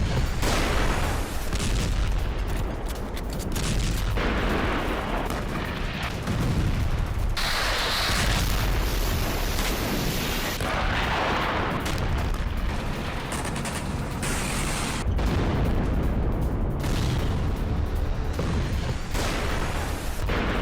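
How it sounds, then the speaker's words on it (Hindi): Heavy gunfire and artillery fire along the Afghanistan-Pakistan border, as Afghan forces fire on Pakistani posts. Continuous loud booms and bursts of shooting run throughout without a break, dense and rumbling with no voices. "पाकिस्तान की चौकियों पर अफगानिस्तान की ताबड़तोड़ फायरिंग"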